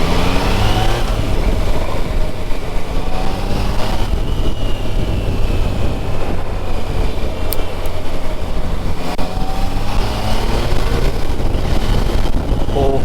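A Triumph Tiger Sport 660 with an inline three-cylinder engine runs steadily and loudly throughout, a continuous engine drone with wind rush during riding, no clear separate revs.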